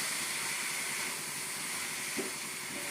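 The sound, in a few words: pizza vegetables frying in oil in pan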